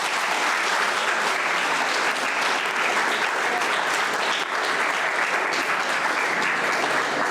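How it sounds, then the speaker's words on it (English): Audience applause at a university IT festival, a dense, steady roar of clapping hands that holds at full strength throughout without pause. "So today you give claps to yourself."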